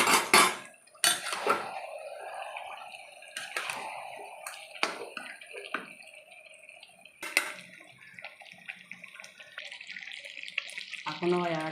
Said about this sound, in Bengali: সমস্ত মশলা দিয়ে এবার ভালো করে কষিয়ে নেবো যতক্ষণ না তেল ছাড়ে।